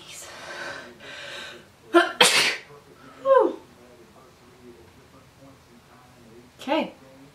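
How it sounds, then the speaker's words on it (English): A single sharp sneeze bursts out mid-clip, preceded by a quick breath and followed by softer breathy sounds, with someone talking quietly before and after. "I'm about to sneeze."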